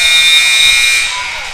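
A loud electronic buzzer sounds at the end of the third quarter of a high school basketball game in a gym, blaring steadily for over a second before beginning to fade, with crowd noise underneath.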